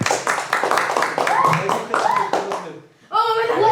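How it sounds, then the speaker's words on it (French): A group claps hands at a youth football event, sharp close claps in a quick rhythm for about two and a half seconds before stopping, followed by a voice. "Applaudissez."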